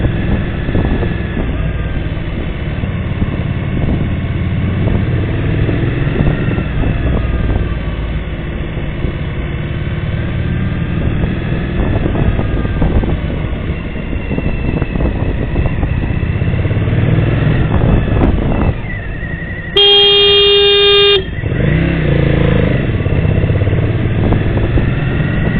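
A Suzuki V-Strom motorcycle rides on with a steady engine drone and wind rumble as a Ford Fiesta pulls out of a junction; a loud, brief car horn blast sounds over the engine near the end.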